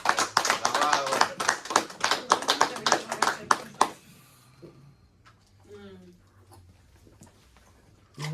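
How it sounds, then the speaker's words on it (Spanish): A church congregation claps in loud, dense applause for about four seconds, then it cuts off into quiet room tone with a few faint sounds. "Denle un aplauso a Dios."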